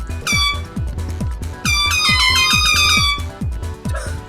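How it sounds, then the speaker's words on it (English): In the video game Shelf-Life, a vehicle horn blares in loud harmonic honks, with repeated blasts and a long sustained stretch in the middle over a pulsing low thump beneath. "I can honk back at you."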